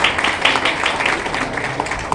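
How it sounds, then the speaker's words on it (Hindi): An audience at a Forsage network-marketing gathering claps, giving a short burst of dense, steady applause at close range. "फोर्सेस सिस्टम के लिए एक बार जोरदार ताली"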